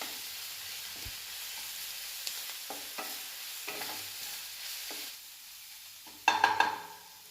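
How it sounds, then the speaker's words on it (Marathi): Green chili paste stirred and fried in oil for a pea chutney, soft scraping stirs with a low background sizzle, then a louder burst of crackling sizzle near the end. "हे वाटणसुद्धा 1 ते 2 मिनटं या तेलामध्ये आपण परतून घेऊयात"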